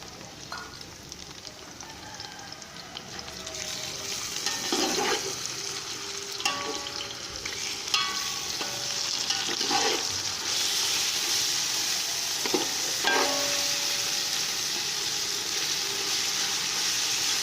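Loud, steady sizzling of ginger garlic paste frying with onions in a pan, with occasional stirring and scraping sounds over the crackle.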